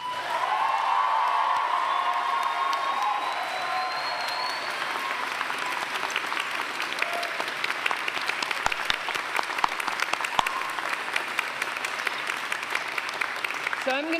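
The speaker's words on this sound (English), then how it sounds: "with a very warm round of applause and cheering that is going to take the roof down" A large graduation audience for education, sociology and languages students bursts into loud, sustained applause with cheering and whoops, a high sustained cheer at the start, then dense clapping filling the hall.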